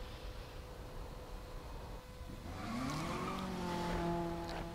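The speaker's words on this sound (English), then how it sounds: "Oh man, my car sounds hella dope." A race car engine in the Need for Speed video game idles with a steady hum, then revs up into a rising whine with a tire squeal, loud and alone.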